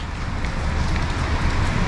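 Steady rain falls in Singapore, a dense, loud, even hiss with low rumble and no breaks, heard alone without voices.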